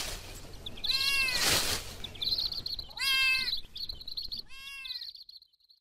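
A cat meows three times in short, bright, tonal calls spaced about a second apart, close and clear against a quiet background.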